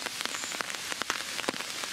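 Scattered drops of rain patter irregularly through an oak tree onto leaves and the ground below during a thunderstorm, close and soft, with a light hiss between the drips.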